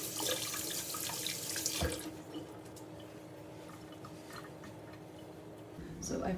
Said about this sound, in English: So obviously we need to wash our hands, so I'm gonna do that right now.